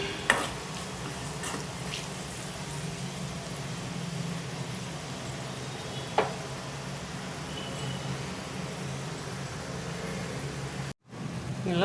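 Hot fried tempering being stirred into a gongura and tomato curry, a steady sizzling hiss with soft scraping of a spoon in the pan, one brief clink midway, and no talking.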